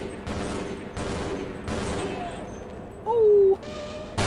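Gunfire in a video game firefight: several sustained bursts of rapid shots, loud and close, separated by short gaps, with a brief tonal sound breaking in near the end.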